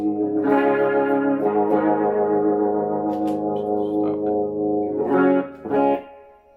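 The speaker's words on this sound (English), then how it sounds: "This channel is the heavier distortion channel." Heavily distorted electric guitar chords through the heavier distortion channel of a Strymon Riverside pedal ring out loud and sustained, with a couple of sharp restruck chords near the end before cutting off.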